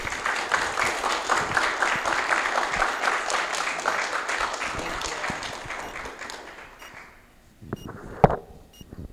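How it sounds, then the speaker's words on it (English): A crowd applauds warmly to welcome Dean Jennifer Prough as the speaker at a Thursdays at The Brauer talk, steady clapping for about seven seconds that fades out, followed by a few faint handling bumps. "Everyone, please give a warm round of applause to our speaker today, Dean Jennifer Prough."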